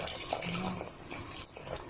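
Water is poured into a pot of simmering beef being stewed for a tomato-based dish, a steady splashing gush in the kitchen lasting throughout.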